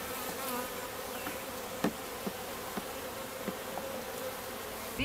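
A steady, droning buzz of many honey bees at an open hive fills the air, close and continuous, with a few faint clicks and taps scattered throughout.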